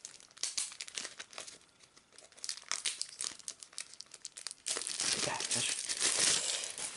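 Plastic packaging crinkles and tears open while a board game's contents are unboxed, soft crumpling at first, then a louder, sustained rip and rustle close to the mic.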